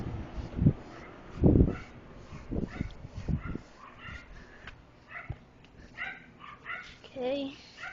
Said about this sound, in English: dog yapping